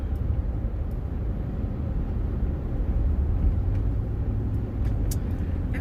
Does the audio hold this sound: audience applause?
no